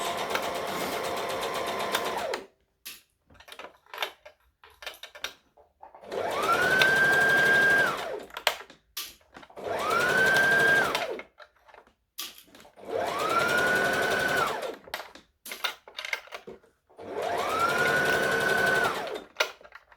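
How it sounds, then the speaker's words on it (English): A sewing machine stitching and back stitching fabric for a Halloween costume: four or five loud whirring bursts of a few seconds each, separated by quiet pauses with faint handling clicks. "So we're going to stitch and back stitch."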